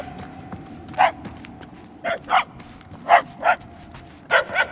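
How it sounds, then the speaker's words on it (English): A dog barks in short bursts, about six woofs spaced unevenly across a few seconds, moderately loud over a steady low hum, in the video game Marvel's Guardians of the Galaxy. "Barking is getting fainter."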